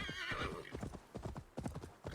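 Horse in Assassin's Creed Valhalla giving a whinny followed by a run of hoof clip-clops, close and fairly quiet, with a faint voice murmuring beneath.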